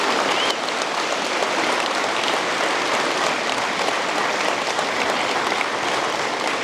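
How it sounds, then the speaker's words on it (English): Steady, dense audience applause fills a Veterans Day ceremony in Denmark, loud and continuous throughout with no pauses. "how about a round of applause for special mom showing up?"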